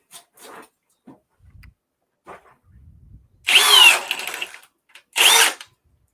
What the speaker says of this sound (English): All right, we're in drill mode.